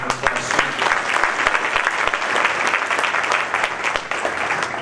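Hearty applause for two scholarship nominees at a senior athletic awards breakfast, loud steady clapping from a room full of people with distinct individual claps poking through, sustained and close.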